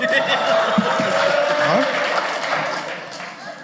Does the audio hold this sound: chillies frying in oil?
no